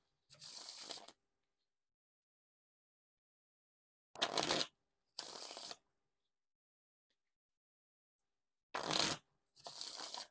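Wiffle and bridge shuffles of a deck of Tally Ho Orbit playing cards: five short, crisp riffling bursts, close and fairly quiet, separated by long silent gaps.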